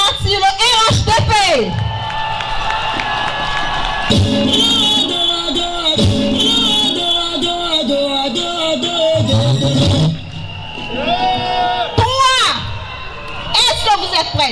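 A crowd at an RHDP pre-congress rally in Cocody, Côte d'Ivoire acclaims Alassane Ouattara, loud bursts of cheering, whoops and shouting rising and falling, with a voice heard over the din.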